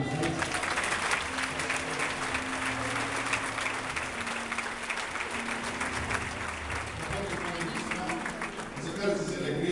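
A church congregation in Brazil applauds after a baptism service, a broad wash of clapping filling the room while voices and a low sustained tone carry underneath throughout.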